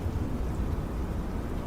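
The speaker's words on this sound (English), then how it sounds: "Still raining here in Salisbury." Steady rain in the flight game Microsoft Flight Simulator 2024, around an Airbus A320 at Salisbury, Maryland: a continuous low, rumbling wash of rainfall with no voices.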